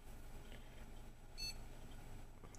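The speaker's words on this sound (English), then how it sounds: "It'll beep at you." A single short electronic computer startup beep sounds midway through, brief and fairly faint over a steady low hum of machine noise.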